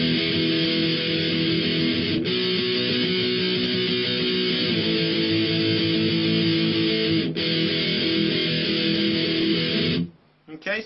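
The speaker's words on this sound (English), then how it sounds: "so that's simple power chords once again, just 3 different power chord shapes" Electric guitar chugs through the chorus using three simple power chord shapes, a loud, dense and steady strum for about ten seconds before stopping abruptly.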